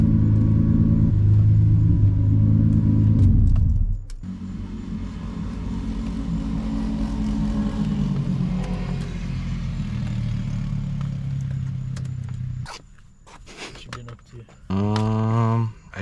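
A single-turbo Nissan 350Z with the DE engine drones loudly under load through a pull, then the engine note drops away and a short rising rev follows near the end. Someone talks over it.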